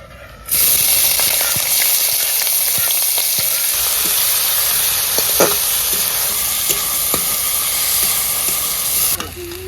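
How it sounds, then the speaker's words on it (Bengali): Chopped green chillies and onion hit a hot wok and burst into a loud, close, steady sizzle that runs almost to the end, with light stirring clinks scattered through it. "এখন আমরা দিয়ে দেবো কুচুনো কাঁচা লঙ্কা আর কুচুনো পেঁয়াজ"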